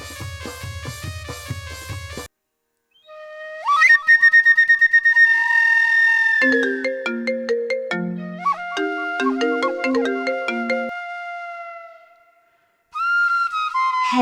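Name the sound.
phone call ringing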